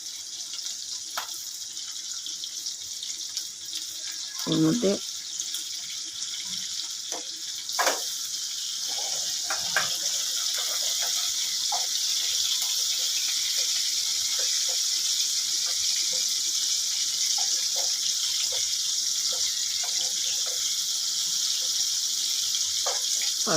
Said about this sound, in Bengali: পটল ভাজা হচ্ছে এক সাইডে, কাঁচা লঙ্কা পেঁয়াজ এই সাইড দিয়ে কড়াই এই সাইডে দিয়ে ভাজতে লাগলাম।